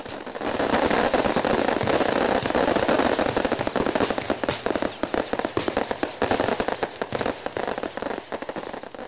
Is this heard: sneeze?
no